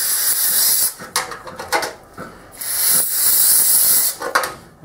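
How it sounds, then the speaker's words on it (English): Carbon and choke cleaner sprays from an aerosol can onto metal being prepped for MIG welding repair, loud hissing bursts repeated several times with short gaps between them, close and alone with no talk. "I'm just going to clean it off with some carbon choke cleaner"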